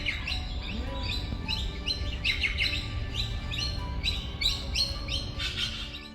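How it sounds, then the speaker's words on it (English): Many birds chirp and sing in a botanic garden among fern trees, with repeated bright tweets and calls scattered across the whole stretch over a steady low outdoor rumble. "Listen to the birds singing."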